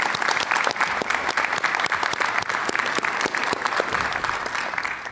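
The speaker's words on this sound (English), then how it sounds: "Please give her a round of applause." At a high school senior night, a crowd applauds a student award, dense clapping that stays loud and continuous for about five seconds, with no speech over it.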